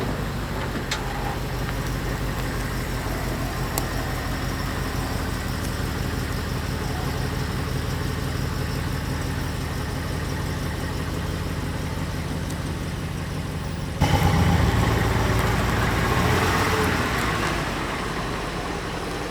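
A bus engine idles steadily for a long stretch, then revs up louder as the bus pulls away outside a house under renovation, a mid-pitched continuous rumble with no talking.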